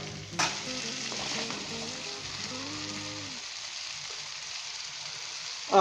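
Potatoes and cauliflower fry in masala while being stirred, a steady close sizzle with scraping and stirring sounds through the first half, then sizzling alone, and a short clatter at the very end.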